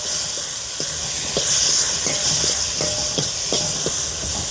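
Finely chopped tomatoes sauté with garlic in a pan while cooking out at sea, a loud, constant hissing sizzle with periodic metallic clinks of stirring over a dense background rumble.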